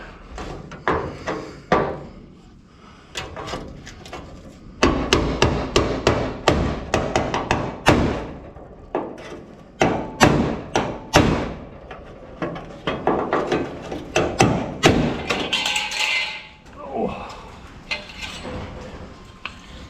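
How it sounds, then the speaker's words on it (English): A hammer drives a chisel through rusted metal on a 1940s Seloil oil rack, giving repeated sharp metallic strikes in uneven bursts with short pauses, close and loud. "I'm gonna try and cut that with a chisel from the back side."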